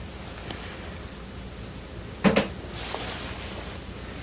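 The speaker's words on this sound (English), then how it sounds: "That's a creak." A single short creak of floor boards, heard once and fairly close, comes during an indoor attempt to recreate a ghost-hunt recording. Faint steady hiss fills the rest, and no one speaks.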